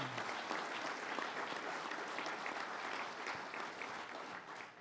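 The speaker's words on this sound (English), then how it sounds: "And let's give them a round of applause." Steady, full applause from a large audience at a government announcement event, continuous and even throughout before tapering slightly at the end.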